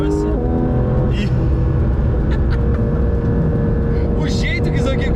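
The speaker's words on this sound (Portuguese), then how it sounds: "Olha o ronco disso, acho que vocês mal devem estar conseguindo me escutar." A Porsche 911 GT3 RS engine drones loud and close from inside the car, a steady rumbling roar that stays nearly constant under someone talking over it.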